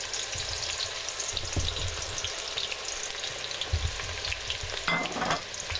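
Onions frying in oil for a Nigerian fish stew, a steady close crackling sizzle with occasional scraping stirs, continuous for several seconds without talk.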